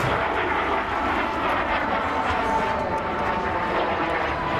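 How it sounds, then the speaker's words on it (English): A Soviet fighter jet bearing Yuri Gagarin markings flies at the Southport Airshow 2015, giving a steady, broad engine roar that holds at an even loudness throughout, with no talking. "This aircraft has the markings of that Soviet cosmonaut Yuri Gagarin"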